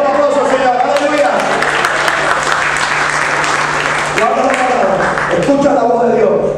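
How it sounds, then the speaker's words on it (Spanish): A church congregation breaks into loud, sustained applause to praise the Lord, a dense wash of many hands clapping close by, with a voice speaking over it. "Es un aplauso al Señor, aleluya."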